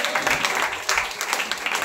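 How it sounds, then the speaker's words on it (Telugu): A church congregation at a revival fasting meeting claps hands together, a busy, fairly close patter of many claps that continues steadily with some voices underneath. "చప్పట్లు కొట్టి ప్రభునామాన్ని కనపరుస్తాం"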